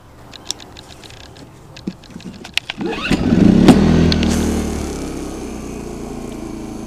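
A Hyundai HY2000SI inverter generator runs alongside a camper, with a few soft clicks and pulls before its engine catches, rises briefly, then settles into a quieter steady hum on eco throttle.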